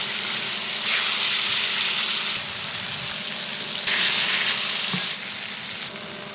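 Pork pieces sizzle loudly in hot oil in a pan, a close, dense crackling hiss with surges as more meat goes in, plus a brief clatter near the end.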